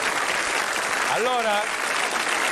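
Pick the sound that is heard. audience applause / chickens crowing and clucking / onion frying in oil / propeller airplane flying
audience applause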